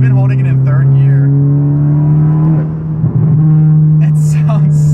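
A turbocharged Honda Civic Si is held in third gear, its engine droning loud and steady with a rising pitch and a brief dip midway, heard from inside the car.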